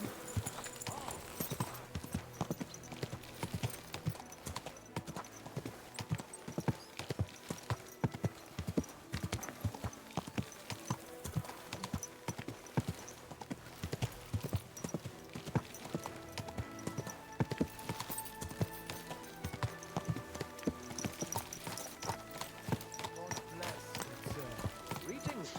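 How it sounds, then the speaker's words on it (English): Horse hooves clip-clop steadily in Kingdom Come Deliverance 2, a brisk, continuous rhythm of close hoofbeats with occasional soft background game sounds and no talking. "Easy, good horse."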